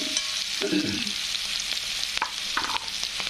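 Onion sautéing in a hot pan with oil, a steady close sizzle and frying hiss broken by a few scraping stirs of a spatula, with no talking.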